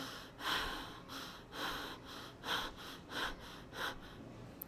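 A series of about six or seven slow, rhythmic breaths, each swelling and fading at close range, showing how someone breathes during a breathing exercise; no talking.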